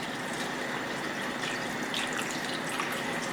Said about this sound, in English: Then pour the water.